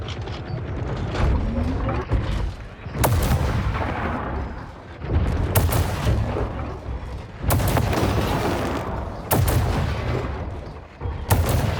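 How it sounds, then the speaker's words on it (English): An artillery weapon fires in the War Robots: Frontiers mech game, with several loud sharp blasts over a constant heavy mechanical rumble and creaking. "It's an extremely weak artillery weapon."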